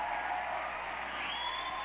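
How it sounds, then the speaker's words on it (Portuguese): Worship team members applaud in a church, a steady dense clatter of clapping hands at even volume throughout, with a faint ringing tone rising midway and a low hum underneath. "O pessoal do louvor pode aplaudir então."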